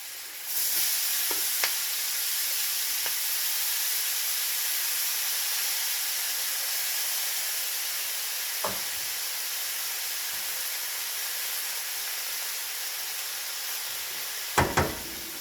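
Spinach dropped into a hot pan while cooking beef stew gives a steady, loud sizzle and hiss that runs continuously, with a few brief clinks and stirring knocks near the start, middle and end.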